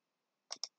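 A computer mouse clicked to save in SolidWorks: a quiet double click, two short crisp taps close together, alone in otherwise near silence.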